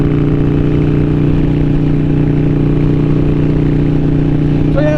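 Harley-Davidson 883 Iron with an aftermarket exhaust idling close by, a steady loud low throb with even pulsing tones, unbroken for the whole stretch.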